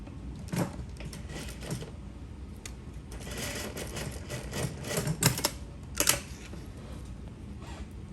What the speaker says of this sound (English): I'm gonna stitch this down into to one side of the zipper first